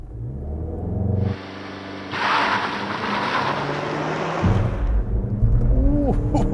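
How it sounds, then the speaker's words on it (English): A 2021 Mazda CX-30 GT Turbo launches hard in sport mode with traction control off, its engine building from a low idle into a loud, rising roar heard from inside the cabin, with brief voices at the end. "I swear this launch is harder than the Mazda 3."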